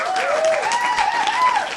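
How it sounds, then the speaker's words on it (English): Clapping applause rings out steadily for under two seconds at a book-review reading wrap-up, dense and even with a tonal sound running through it, no voices heard. "So please give me a round of applause"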